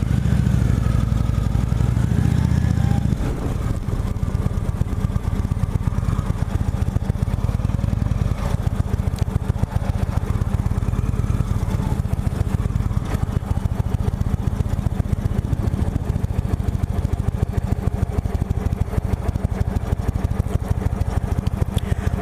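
A 2017 Indian Chieftain Limited motorcycle's large V-twin engine cranks and catches after a few seconds, then settles into a steady, loud, close idle with a rhythmic mechanical clatter.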